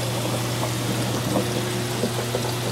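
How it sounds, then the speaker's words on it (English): Steady trickling and dripping water runs down an algae scrubber on a saltwater reef tank, continuously over a small pump's low hum, soft and even throughout. "runs down pipe, and then drips down."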